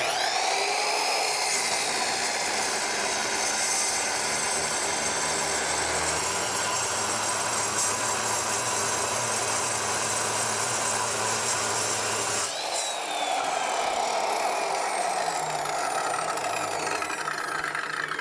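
A compact ASM Ultra AC713 cut-off saw grinds steadily through a solid 35 mm 1045 steel piston shaft, a loud continuous high-pitched abrasive whine that dips briefly near the end before resuming, with no talking.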